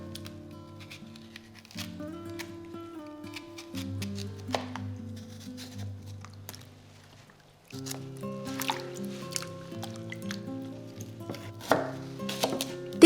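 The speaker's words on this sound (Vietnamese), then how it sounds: "Mình cắt chuối thành những miếng vừa ăn như thế này và ngâm ngay vào thau nước để chuối ra hết mủ." Green bananas are chopped into bite-sized pieces with a knife on a board, a series of crisp, close cuts in an irregular rhythm over a steady tonal background, with a short pause midway.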